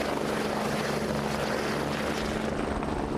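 Steady, loud rotor and engine roar of an NHS air ambulance helicopter, continuous throughout with a low throbbing hum and broad noise, no voices.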